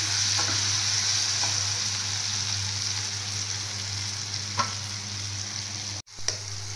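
A salted egg omelette fries in a pan with a constant loud sizzle and spatter, a few soft stirring scrapes, and a brief clunk near the end.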